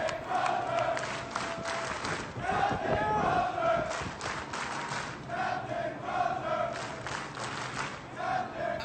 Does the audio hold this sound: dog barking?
no